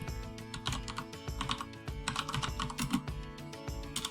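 Fingers typing on a computer keyboard at a quiet desk, giving soft, irregular clusters of clicking keystrokes at close range, with no talking.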